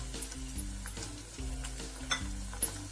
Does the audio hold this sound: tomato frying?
yes